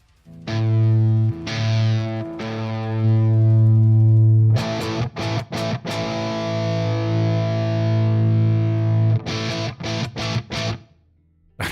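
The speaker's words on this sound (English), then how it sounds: "Although I think there's only one fuzz pedal, it's a doozy." An electric guitar played through a heavy fuzz pedal, with thick, buzzy sustained chords and bursts of short choppy strums, loud and close with no talking.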